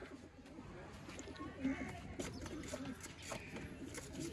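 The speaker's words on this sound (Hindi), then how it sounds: "ये है जी दोस्तों कबूतर" Sialkoti pigeons of a purebred breeder pair coo softly at close range, low soft calls in a quiet loft-like space, with someone talking at times over them.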